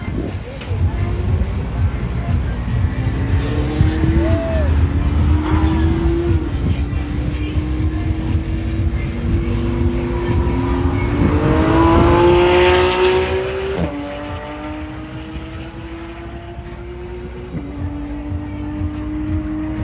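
A Porsche sports car lapping a track, its engine revving up through rising pitches and gear shifts with braking and acceleration, heard from inside the cabin while an instructor talks over it.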